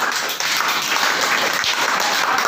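Children in a primary school classroom clap together during a geometry lesson, a dense, loud burst of applause held at an even level from start to finish.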